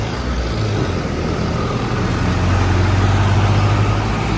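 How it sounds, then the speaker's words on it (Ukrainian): A tractor driving along a snowy road clearing and spreading on the snow, heard as a steady low engine drone that holds constant and grows slightly heavier and nearer toward the end. "А трактор вже їздить, прибирає."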